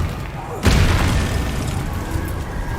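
A Confringo fire spell goes off in the wizarding game Hogwarts Legacy, a sudden loud blast whose boomy rumble keeps rolling for a couple of seconds afterward.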